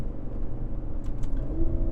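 Aston Martin DB11 with a twin-turbo V12 cruising along a winding road, a steady low engine rumble and road drone heard from inside the cabin with no talking.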